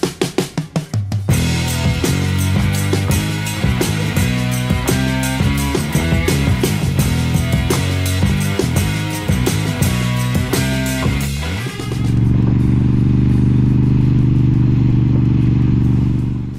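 A Moto Guzzi V7 Special motorcycle plays loud and continuous, first with a rhythmic, music-like pattern, then switching to a steady low engine drone near the end.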